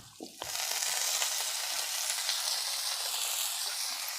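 Ghetkol leaves sizzling as they fry in a pan with onion and green chili: after a brief clatter, a steady, bright hiss runs close and even, with no talk.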